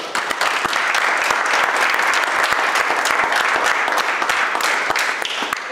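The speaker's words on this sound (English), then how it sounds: "I think that's worth another round of applause" Dense, sustained audience applause at a conference session fills the whole stretch at steady loudness, many hands clapping together without pause.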